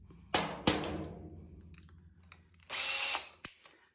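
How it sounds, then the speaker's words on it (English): A power drill fitted with a quarter-inch bit, used on a DIY powder-coat curing oven build from kitchen oven parts, gives a few short bursts and clicks, then one longer whirring run, close and alone. "So, I'm going to swap over to my quarter inch drill bit here."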